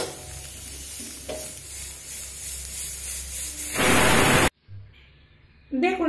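Soybean chunks fry in oil with a dense, close crackling sizzle that swells louder, then cuts off abruptly into near quiet before another burst of sound.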